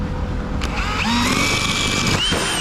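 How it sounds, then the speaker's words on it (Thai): A Bosch Expert spade drill bit bores into wood under a power drill, making a loud, steady whirring grind with a rising whine as the bit bites, close and continuous with no talking. "อันนี้เป็นคลิปที่ผม ใช้เจาะที่งานครับ"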